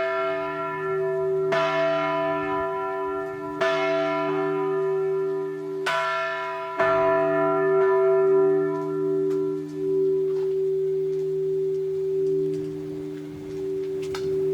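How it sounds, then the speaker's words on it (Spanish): The great church bell of Santa Maria del Pi strikes several times at irregular intervals, each deep bronze stroke leaving a long, humming, shimmering hum that lingers and overlaps the next, heard clearly with no voices. "de la campana mayor, la Antònia, que es la campana mayor más grande del Pi"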